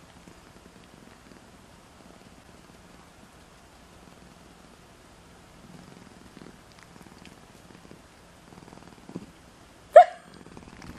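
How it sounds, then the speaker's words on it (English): A very soft, low kitten's purr runs quietly through the stillness, near and faint, broken by a sudden small sharp hiccup from the kitten near the end. "And she's purring."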